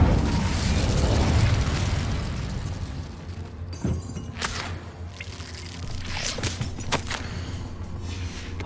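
Incendio fire spell from Hogwarts Legacy bursting in a broad whooshing roar that fades, followed by several sharp crackling pops and bursts amid ongoing game ambience.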